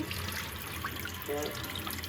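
Water runs and trickles steadily from a tap or poured stream during household cleaning, a continuous soft wash with a brief brighter splash near the middle, heard alone without talk.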